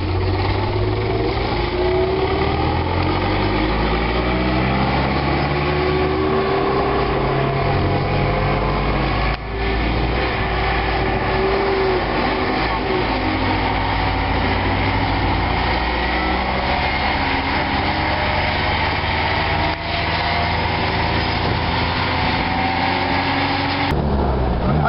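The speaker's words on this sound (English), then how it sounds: "You can hear the whine of its gears." A restored vintage Bentley 4.5 Litre with 130 horsepower runs steadily and close by, its engine drone carrying a rising and falling gear whine throughout, with no talking.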